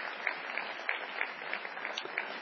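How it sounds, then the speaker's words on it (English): A crowd claps in steady, even applause at a baptism, slightly distant and muffled, with no one speaking. "Yeah, you can clap."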